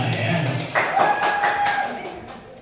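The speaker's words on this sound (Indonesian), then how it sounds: "beri tepuk tangan untuk kita semua ya" A group of seated adults at an Indonesian school or training session claps together, a brief burst of applause over steady room murmur and some talk.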